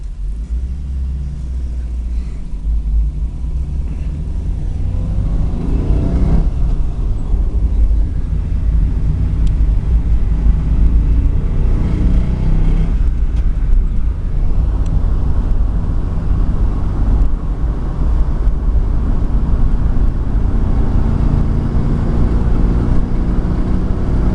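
Steady engine drone and low road rumble from inside a moving car, continuous and loud, with occasional swells as it accelerates.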